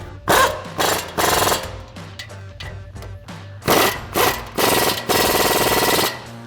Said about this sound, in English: thread in our 2 factory bolts. And then I'm going to grab a 19mm swivel socket and tighten those down.